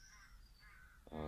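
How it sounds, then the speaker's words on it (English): Crows cawing near a quiet village churchyard, faint distant calls drifting over low background hush, with a louder harsh caw breaking in at the end. "Hear the crows in the background."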